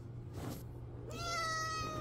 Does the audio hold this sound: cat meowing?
yes